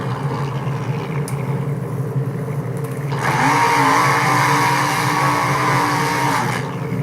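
A monster truck engine in the video game Rigs of Rods: a steady drone that swells louder partway through, with a rising whine layered on top, continuing without speech.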